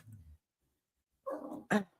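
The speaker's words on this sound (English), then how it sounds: "Yes, I have a dog named Mojo" A dog barks indoors: a low rumble at first, then a pause and two short, sharp barks close by, with no talk over them.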